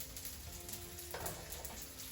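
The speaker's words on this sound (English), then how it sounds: "I'm frying them up." Boiled bow tie pasta frying in a pan, a steady soft sizzle and crackle of hot oil running throughout at low, close level with no talk.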